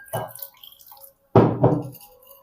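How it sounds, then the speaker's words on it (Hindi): Hot water poured over strawberry jelly powder in a bowl, heard as two short splashing gushes, the second louder and closer, separated by a brief silence. "सबसे पहले हम 1 पैकेट स्ट्रॉबेरी जेली के अंदर पानी डालेंगे और इसको डिज़ोल्व कर लेंगे।"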